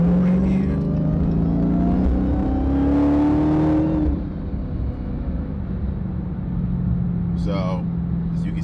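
A Dodge Hellcat in track mode roars as it accelerates hard up a highway on-ramp, the engine note climbing steeply and then settling into a steady cruise drone, with someone talking over it.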